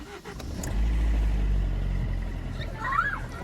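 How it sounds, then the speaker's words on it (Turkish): A car engine starts up in freezing, snowy weather at about zero degrees, catching with a little throttle and settling into a loud, steady low rumble close by with no talk over it. "Biraz gaz vererek de olsa çalıştırdı kendini."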